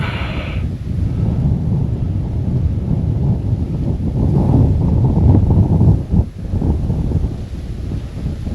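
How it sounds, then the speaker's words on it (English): Strong wind blowing at a gorge, a loud, continuous roaring rush with heavy buffeting on the microphone that surges and dips briefly near the end. "Wind is still blowing."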